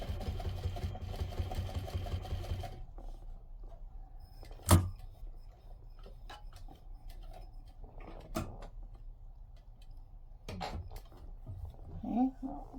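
A regular domestic sewing machine stitches through two layers of batting and two layers of fabric for a patchwork bowl cozy, a short buzzing run at the start followed by quiet handling clicks and soft thumps.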